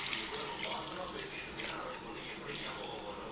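Water pours steadily into mutton curry masala in a cooking pot, a continuous broadband splashing hiss that runs through the whole stretch at moderate loudness, with no distinct pauses.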